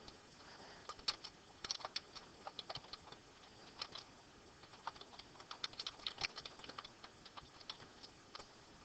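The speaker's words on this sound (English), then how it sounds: "To make a question, all you do is type your question here." Someone types a question on a computer keyboard in a quiet room, with quick irregular bursts of light key clicks and brief pauses, soft and close.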